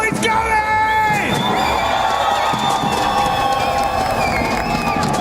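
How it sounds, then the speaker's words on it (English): A large esports arena crowd in Paris cheers and whoops loudly and continuously, with shouts and high-pitched yells rising over a dense roar of many voices. "how loud can you get? Let's get some noise going!"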